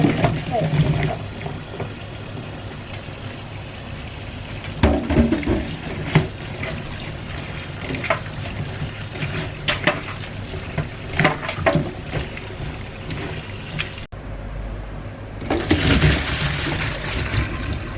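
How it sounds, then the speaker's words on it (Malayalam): Tap water runs steadily over cut pieces being washed with turmeric, a soft continuous splash and trickle with occasional louder gushes, briefly cutting out near the end before resuming. "നമുക്ക് വെള്ളം തുറന്നിട്ടിട്ട് ഇതൊന്ന് ഫുള്ളായിരുന്നു നന്നായിട്ടൊന്ന് കഴുകിയെടുക്കാം"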